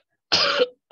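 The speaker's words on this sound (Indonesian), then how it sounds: "bentar ya guys, agak batuk." A single short, harsh cough bursts out close to the mic, followed by a brief quiet gap, in a home setting during a PHP coding tutorial.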